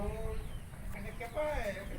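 Backyard chickens, a flock of brown egg layers, natives and bantams, cluck softly in short bursts under a steady low background, with people talking nearby.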